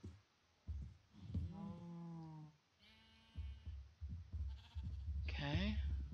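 Sheep bleat in Minecraft: several wavering, nasal bleats, one after another with short gaps, the last louder and higher, over low game background noise.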